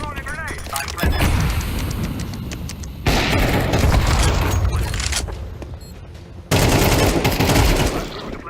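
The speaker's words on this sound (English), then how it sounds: "I'm throwing a grenade." Explosions and heavy gunfire from a first-person shooter video game hit in sudden loud bursts, three separate blasts each followed by a dense rumbling tail, with brief quieter gaps between them.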